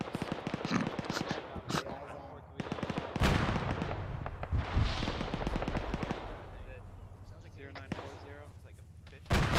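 Autocannon fire in the ArmA 3 military game, with loud repeated bursts and sharp impacts mixed with other gunfire while players talk over radio.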